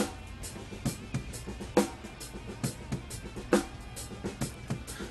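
A drum kit heard from above, cymbals and hi-hats bright and splashy, with thinner, more distant kick and snare hits in a steady pattern.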